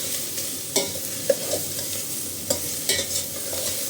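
Spoon stirring a cucumber rice mixture in a pan, with scraping knocks and clatters at irregular moments over a soft, steady sizzle; no talking.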